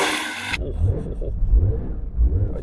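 A Porsche 911 S/T engine revs up as the car pulls away, a low throaty rising and falling roar heard from inside, following a brief burst of noise at the start.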